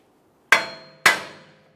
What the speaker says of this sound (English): We're just going to give this a couple loving bonks and see if we can get it to break free.